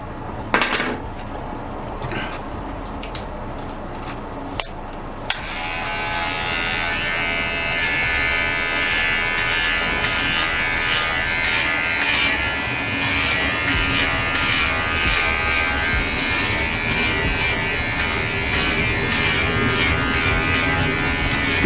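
A Hiena cordless professional hair trimmer runs with a steady, close electric buzz, starting with some brief clicks and handling before the motor hums continuously.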